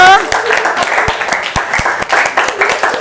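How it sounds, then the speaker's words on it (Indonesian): Scattered clapping from a classroom group after a question-and-answer session, with some voices talking over it and a few louder individual claps standing out. "Oke, tepuk tangan dulu."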